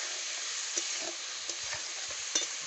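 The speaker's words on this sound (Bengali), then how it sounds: "আর ফুলকপি হালকা করে ভেজে নেবো" Cauliflower florets fry lightly in a pan, giving a steady close hiss of sizzling oil with a few soft knocks from stirring. No speech.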